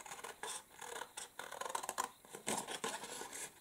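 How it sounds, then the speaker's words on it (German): Scissors snip through patterned craft paper, cutting out a strip, in a run of quick close crisp cuts with short pauses, no talking. "schneide mir das einfach mal nur mit der Schere aus"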